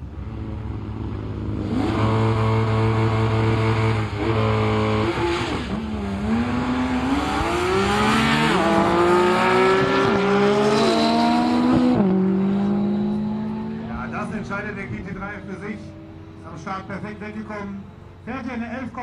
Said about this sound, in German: Porsche GT3 901 gegen McLaren